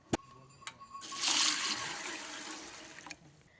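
A few sharp clicks, then water splashes and swishes for a couple of seconds as sago pearls are rinsed in a bowl, fading to trickles.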